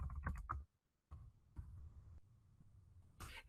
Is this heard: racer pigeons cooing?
no